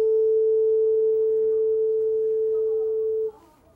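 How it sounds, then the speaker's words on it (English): A metal U-shaped tuning fork is struck with a mallet and rings a pure steady A at 440 Hz, close and clear, holding for about three seconds before it is cut off. "A tuning fork. U-shaped piece of metal. You strike it with a mallet, it makes a sound."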